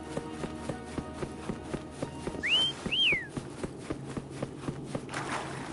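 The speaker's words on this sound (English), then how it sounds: "Try whistling." Two rising-and-falling whistle notes from a character calling the creature Foam in the Wuthering Waves video game, clear and close over steady rhythmic footsteps and ambient game sounds.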